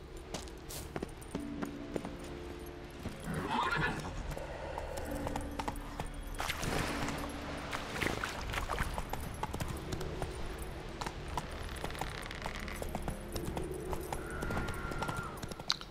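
Roach the horse gallops in The Witcher 3, rhythmic hoof clip-clops at moderate volume over in-game ambience, with no talk.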